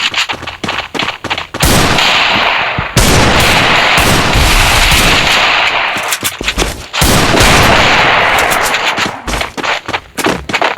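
Gunfire in the mobile shooter game Free Fire: loud, close bursts of rapid automatic shots and single shots, repeating in quick clusters with brief pauses between them.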